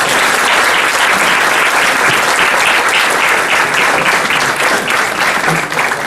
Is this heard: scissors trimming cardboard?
no